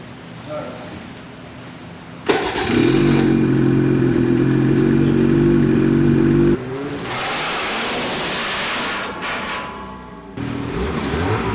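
Snowmobile engine fires up abruptly and runs loud and close at a steady idle for several seconds, then settles to a lower, rougher running tone, with voices talking over it.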